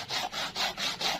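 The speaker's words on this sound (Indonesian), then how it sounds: "Jadi pucuknya ini digosok ke amplas." Rhythmic rasping strokes, about five back-and-forth rubs of a Parica (Brazilian sengon) plant shoot against sandpaper in quick succession, close and clear with no talk.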